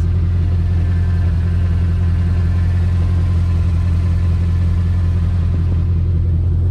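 Bugatti Chiron with its W16 engine running, a steady deep low rumble held loud and constant throughout with no talk over it.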